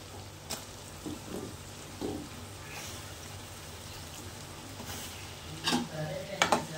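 Chopped ridge gourd pieces tipped into a hot pan and stirred, giving a steady background sizzle with scattered scraping clatters of the spoon, close and without talk.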